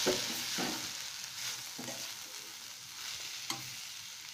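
Carrot and beans poriyal with grated coconut stir-fries in a pan, giving a soft steady sizzle broken by several gentle stirring scrapes.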